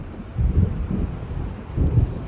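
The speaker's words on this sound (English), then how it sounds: "It seems there's a storm coming." Low thunder rumbles and swells twice beneath a steady wind-like roar as a storm approaches in Alan Wake Remastered, with no voices over it.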